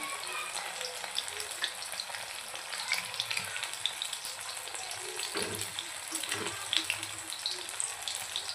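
Chilapi fish pieces fry in hot oil with a dense, steady sizzle and crackle, a few louder pops and spatters standing out along the way, close and continuous with no talk.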